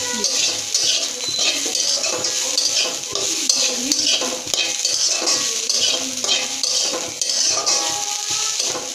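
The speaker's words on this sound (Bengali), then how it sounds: "এখন এভাবে নেড়ে চেড়ে 2-3 মিনিট, আর বেশি নাড়তে হবে না" Mustard greens are stirred in a pan with a metal utensil, making continuous scraping and clinking over a light frying sizzle, close and fairly loud.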